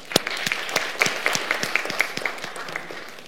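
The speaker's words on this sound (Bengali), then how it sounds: "আমরা আমাদের সম্মানিত প্রধান অতিথি আর্থিক খাত বিশ্লেষক জনাব মামুন রশিদকে সবাই জোরে তালি দিয়ে অভিনন্দন জানাই" An audience at a formal shadow parliament debate on foreign investment challenges in Bangladesh applauds the chief guest, a financial sector analyst, with steady, dense clapping from many hands that carries on throughout, fairly loud and close, with no speech over it.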